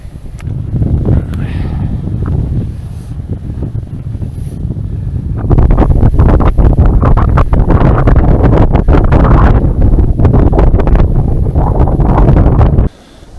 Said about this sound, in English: Icy wind.